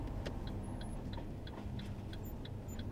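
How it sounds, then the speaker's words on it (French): A car's turn signal ticks in an even, quick rhythm, about three clicks per second, faint against low engine hum inside the vehicle during a driving lesson. "clignotant."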